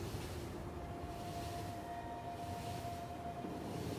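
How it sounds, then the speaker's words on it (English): A train running in the video game Factorio, hauling cargo to a base: a steady, even rumble of rolling wheels held at constant loudness, with a thin sustained tonal whine laid over it, heard alone. "I've got a very functional train over here, which brings Mark III modules and solar panels with accumulators to my base."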